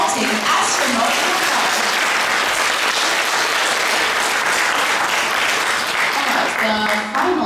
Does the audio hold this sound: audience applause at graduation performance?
yes